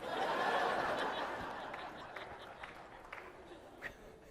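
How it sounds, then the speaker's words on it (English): Audience clapping at a keynote speech, a brief swell of applause mixed with light laughter that fades out over a few seconds. "The people in back are clapping"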